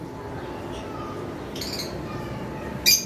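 A pair of lovebirds gives a few scattered calls, short squawks and chirps heard faintly over a steady background hum, with one sharper call near the end.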